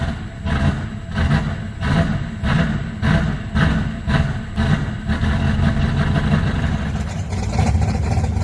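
A Chevrolet Nova engine runs rough and loud close by, its steady pulsing drone lumpy and uneven, the level sagging and wavering toward the end as the motor stalls out at the track; no voices.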